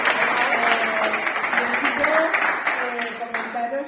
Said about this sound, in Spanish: Yo creo que un aplauso más que